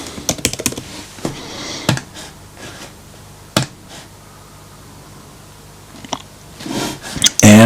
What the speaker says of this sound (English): So just type in again the details that we just made.